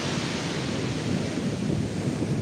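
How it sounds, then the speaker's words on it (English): Stiff onshore wind blowing up a Norfolk beach gives a steady, dense rush of noise, with gusty buffeting on the microphone and no voices. "Well, it's this stiff wind we're getting."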